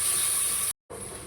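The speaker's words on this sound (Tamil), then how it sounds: "இஞ்சி பூண்டு பேஸ்ட் நல்லா பச்சை வாசனை போகிற வரைக்கும் நல்லா வதக்கணும்." Ginger garlic paste and mint sauté in hot oil for paneer biryani with a loud, steady, close sizzle. The hiss cuts out briefly for a moment, then resumes.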